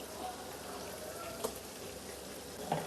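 Ground masala paste of onion, tomato, pepper and cumin hitting a hot pan, a steady soft sizzle and frying hiss with a couple of faint stirring clicks.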